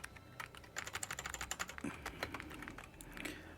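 Steady, busy typing on a computer keyboard while working in an IDE, dense clattering keystrokes close up with no speech over them.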